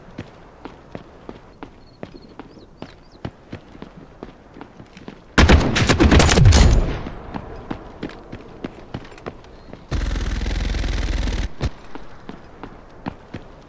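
Bursts of gunfire in the Delta Force video game, a loud rapid volley and a later sustained blast over steady in-game footsteps and ticking, no talk heard.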